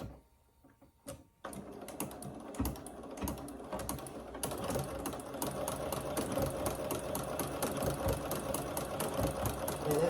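A sewing machine fitted with a ruffler foot gathering fabric into ruffles for a pillow at its longest stitch length, starting after a brief pause and then running in a fast, steady mechanical clatter of rapid ticking stitches, close and continuous.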